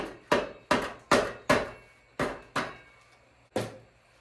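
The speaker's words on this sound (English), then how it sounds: "Use a saw as a hammer." Seven sharp, ringing knocks of a saw used as a hammer striking wood, close and loud, in a fairly steady rhythm with a pause before the last blow, in a basement.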